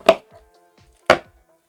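A blade cuts cleanly through the roots of a potted houseplant being divided, two sharp crisp snips about a second apart, close and isolated against near silence.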